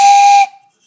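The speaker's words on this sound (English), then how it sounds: "And it even makes a whistle sound" A short, bright whistle blast, like a train whistle, sounds loud and alone for about half a second and then cuts off into silence.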